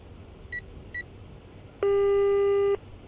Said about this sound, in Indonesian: Apa nih, telepon.